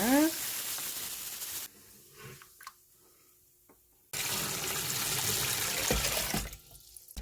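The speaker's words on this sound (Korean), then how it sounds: "소금물을 만들어서 붓겠습니다" Salted brine of three liters of water and 600 g of salt poured over salted radishes in a pot, a loud splashing, gushing pour for about two seconds, a quiet pause, then a second steady pour.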